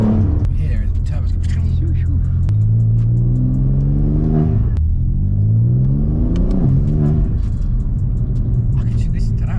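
Turbocharged engine of a BMW M3 Touring revving hard, rising and falling in repeated sweeps, loud and close.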